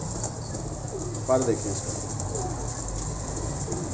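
Pigeons kept for sale in Faisalabad give a short, soft coo close by, against a steady low hum, while someone talks throughout.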